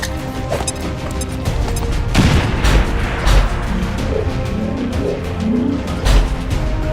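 Grenade blast in XCOM 2 War of the Chosen, a loud booming burst around two seconds followed by further thuds and gunfire-like cracks in a busy battle mix with some voices.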